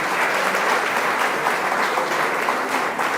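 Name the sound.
applause for Juan Diego welcomed into the church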